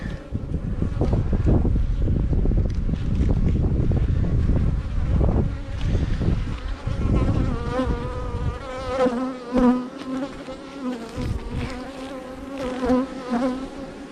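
Dense swarm of bees buzzing loudly and continuously at an open beehive with brood and queen cells, close to the microphone, with some wind noise against the mic.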